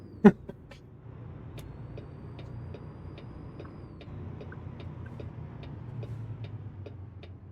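Big truck engine in a trucking simulation game, a low steady rumble held through the turn, with a sharp click at the start and faint regular ticking over it.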